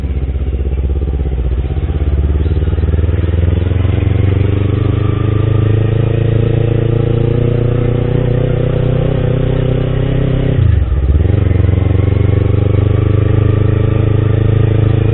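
A motorcycle rides steadily at about 20 to 25 km/h, its engine humming evenly up close with a brief dip in revs partway through, heard alone without talk.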